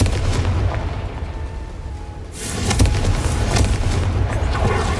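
The Confringo fire spell in Hogwarts Legacy goes off as a heavy, booming blast that swells partway through and rolls on as a loud sustained roar over a dense game background.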